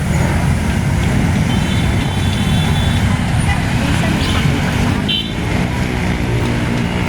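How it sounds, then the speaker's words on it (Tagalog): Heavy, slow-moving highway traffic near the Skyway, a loud constant rumble of cars, trucks and buses close by, with faint beeps and a voice talking over the roar. "Ganyan grabe guys pag nag traffic talaga ito sa highway guys."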